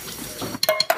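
A spoon scrapes the last condensed milk from a metal can, a soft rasping followed by a few quick, bright metallic clinks close by.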